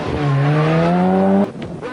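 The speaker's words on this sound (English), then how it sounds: "For Chris Mellors, the Group A Sierra is proving to be quite a handful." A Group A Ford Sierra rally car roars past at speed on a rally stage, its loud engine note rising steadily for over a second before cutting off abruptly, leaving fainter mechanical noise behind.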